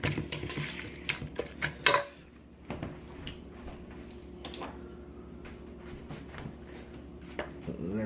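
Chicken salad with celery is tossed in a bowl, starting with a burst of clattering utensil strikes and scraping that then settles into quieter, sparse clinks and soft rubbing.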